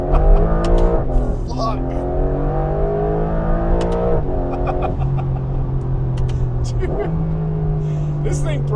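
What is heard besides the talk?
Porsche 992 GTS with Soul Performance exhaust accelerating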